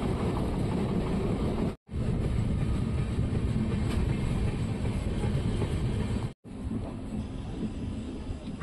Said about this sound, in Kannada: ನಮ್ಮ ಟ್ರೈನ್ ಈಗ ಮಂತ್ರಾಲಯ ರೋಡ್ ರೈಲ್ವೆ ಸ್ಟೇಷನ್ಗೆ ಬಂದಿದೆ, ಪ್ಲ್ಯಾಟ್ಫಾರಮ್ ನಂಬರ್ 1ಕ್ಕೆ